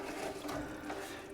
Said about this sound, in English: when that stops dripping